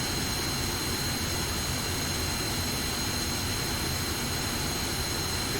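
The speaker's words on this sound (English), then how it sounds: "We've got the left engine going." The left jet engine of an F-5 fighter in the DCS World flight simulator runs with a loud, steady, close roar and a thin high whine, unbroken throughout.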